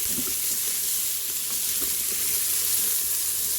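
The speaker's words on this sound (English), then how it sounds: "And this is searing." Vegetables for soup, including carrots, sear in a pot with a steady, close hiss of sizzling and a few faint stirring scrapes underneath.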